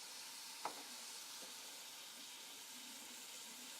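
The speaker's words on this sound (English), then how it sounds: "Now I'm just going to blanch it with a little bit of water." Fresh spinach in a hot pan with a splash of water, a soft steady sizzle and hiss with one brief clatter near the start, quiet and close.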